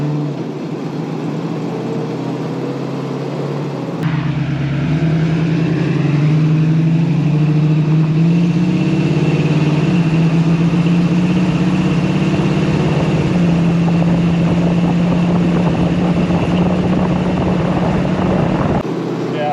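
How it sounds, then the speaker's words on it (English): A 1933 Ford Vicky street rod powered by a 350 V8 cruises down the road, its engine a steady, loud drone heard from inside the car that shifts slightly as it pulls along. "The 350 has no problem pulling this car down the road."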